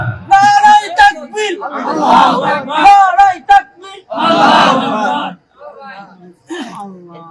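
A crowd at a Bangladeshi Islamic mahfil shouts Allahu Akbar back in answer to Nara-e-Takbir, in two or three loud collective bursts that follow a lone preacher's call, with brief gaps of quiet between them.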